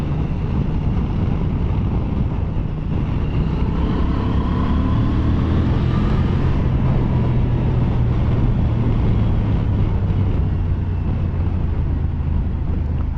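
Honda XL750 Transalp motorcycle ridden on a road, with a steady engine drone under heavy, constant wind rush over the microphone and no voices.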